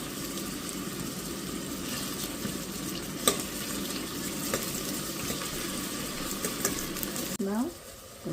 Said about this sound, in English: Once it's warm, adding 1 onion chopped finely. I'm adding few curry leaves.